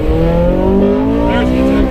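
A Honda Civic Si engine revs hard as VTEC engages, a loud, rising harmonic whine climbing steadily in pitch over about two seconds without speech.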